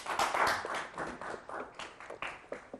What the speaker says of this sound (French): On applaudit les débatteurs.